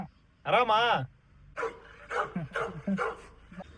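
A dog nearby lets out one drawn-out, whining bark, then a run of shorter, choppier barks, with quiet pauses between them.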